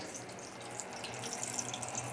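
Steady, soft fizzing and crackling of hot oil bubbling as chicken legs fry, a continuous hiss with small pops, no voices.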